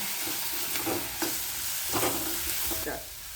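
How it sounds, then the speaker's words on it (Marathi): Turmeric, chili powder and coriander being sautéed in a pan with cooked onion and tomato: a continuous close sizzle of frying, broken by a few soft stirring scrapes. "यामध्ये टाकूया हळद चवीनुसार तिखट याला थोडीशी कोथिंबीर याला छान परतून घेऊया"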